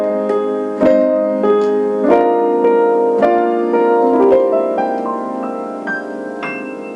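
Aeolian cadence sounded in a higher register, a series of sustained harmonic chords struck one after another with a clear final resolution, close and fairly loud with no voices.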